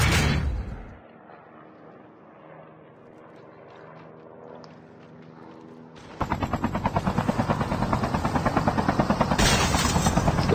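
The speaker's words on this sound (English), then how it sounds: "So now they're shooting the chopper." Rapid, loud bursts of automatic gunfire rattle in Call of Duty: Mobile squad play as players shoot at a helicopter, beginning after a quieter lull and continuing in dense repeated volleys.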